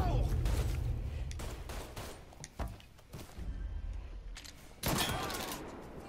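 Gunfire in the video game Mafia 3 comes as loud bursts and single shots, close and distant, with thuds and a heavy blast near the end. Voices talk under it.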